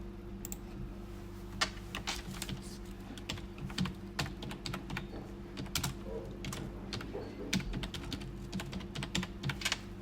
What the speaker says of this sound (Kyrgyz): Эми астына фамилиясын жазабыз, мына текст кылып туруп.